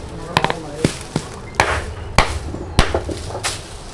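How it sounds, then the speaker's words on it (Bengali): Nails are hammered into a handmade broom, a hand-tied jhadu fastened with tin strips: a run of sharp, uneven wooden knocks and thwacks, close and loud, some struck in quick pairs, with voices talking in between. "তারপরে এই যে আপনার হলো খিল লাগাইতে হয়।"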